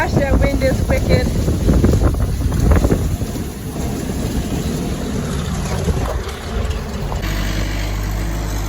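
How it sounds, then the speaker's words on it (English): Strong, gusty wind blows across a cattle farm while feed is being mixed, roaring loudly and continuously into the microphone with buffeting rumble throughout. "Gosh, that wind is wicked."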